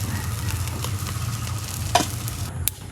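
Beef tongue bhuna fries in oil, making a dense, steady close sizzle with a couple of brief spatula scrapes near the end; no speech.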